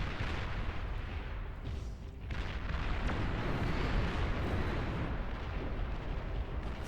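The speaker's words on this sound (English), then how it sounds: "Arbiters sending off their missiles" Long-range missile volleys from Arbiter units in the real-time strategy game Beyond All Reason, a dense continuous rumble of launches and booming impacts that swells slightly midway and stays loud throughout with no talking.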